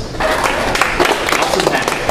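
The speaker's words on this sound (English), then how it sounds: "So everybody give a round of applause." Scattered audience clapping at an open-mic night, mixed with talk and movement, fairly close and loud, a brief burst of applause.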